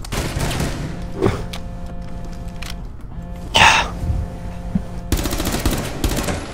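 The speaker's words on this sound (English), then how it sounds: "I shot you in the face." Gunfire in the video game Rainbow Six Siege: a few sharp shots and a burst of rapid automatic fire near the end over a steady game background, loud and close, with a brief noise like a cough or throat clearing in the middle.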